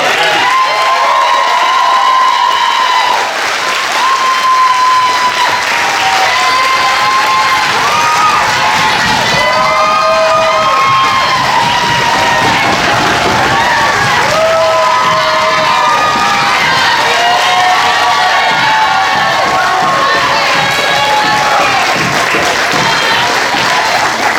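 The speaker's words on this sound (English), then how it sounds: "One more round of applause" A graduation crowd at an adult education ceremony applauds, cheers and whoops loudly and steadily, with shouting voices rising over continuous clapping throughout.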